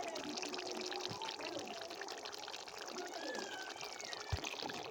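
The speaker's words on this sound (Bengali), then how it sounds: "এইবার 4 কাপ জল আমি দিয়ে দেব।" Water pours from a cup into a pressure cooker holding browned mutton curry, a soft, steady trickling splash close by and fairly faint, with a couple of light clinks.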